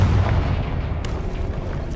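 A Confringo fire spell goes off in Hogwarts Legacy, a deep rumbling boom that swells at the start and then trails into a dense, fading roar lasting about two seconds.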